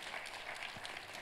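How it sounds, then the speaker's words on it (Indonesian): Church congregation applauding in praise during a sermon, a short burst of dense, steady clapping from a crowd, fairly distant and even throughout. "Tepuk tangannya yang meriah buat Tuhan kita."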